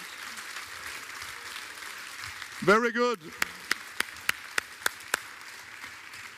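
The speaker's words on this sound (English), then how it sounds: "Big applause" After handball goalkeeper training, a few separate, evenly spaced claps ring out close by, following a short spoken remark.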